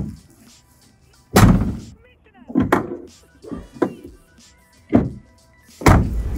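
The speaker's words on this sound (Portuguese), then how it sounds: "Então, rapidamente você pode fechar a porta." Heavy doors on a Mercedes Sprinter 515 camper van conversion are closed, giving a series of loud, close thuds and slams spaced a second or so apart, with faint background noise between.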